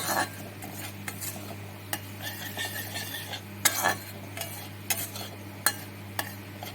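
Cumin seeds and a little sugar fry in hot oil for a rohu fish kalia while a utensil stirs the pan, giving repeated metal clinks and scrapes over a low, steady sizzle, with nobody speaking.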